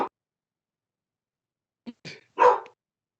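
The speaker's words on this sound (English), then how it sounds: "Always nice to have some dogs" A few short dog barks break an otherwise quiet moment, one faint yelp followed by two louder, rougher barks close together near the end.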